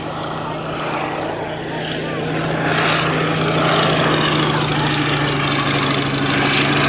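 Fairey Swordfish Mk.1 biplane at an air day flies past with a loud, continuous propeller engine drone that swells louder midway, while a commentator speaks over it.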